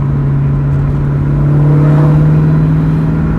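Terminator Cobra engine held at light throttle, a steady loud drone with a strong low hum that swells slightly midway, close and continuous with no voices.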